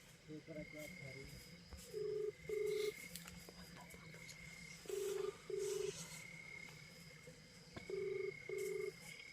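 A phone number is keyed in for a late-night emergency call, giving short paired electronic beeps in three separate clusters over a faint background with some low murmuring.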